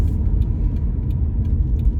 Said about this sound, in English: I gotta put my blinker on, so if you hear that,